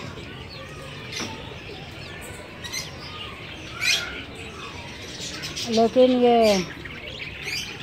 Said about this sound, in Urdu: جو آسٹریلین طوطے ہیں